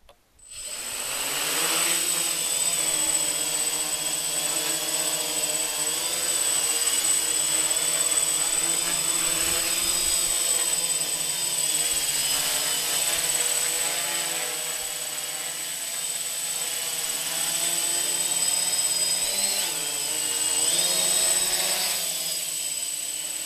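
Small mini PVC-frame quadcopter drone taking off in acro mode outdoors, a steady high-pitched motor whine and buzz that holds continuously at close range with slight swells as the throttle shifts, no talking.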